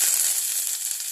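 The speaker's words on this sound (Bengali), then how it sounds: "সর্ষেটা একটু ভাজা ভাজা হয়ে গেলে এতে আমি এবার ফোড়ন দেব কারি পাতা" Curry leaves hit hot oil with mustard seeds, giving a bright, steady sizzle and crackle for about a second, close and fairly loud with no talking.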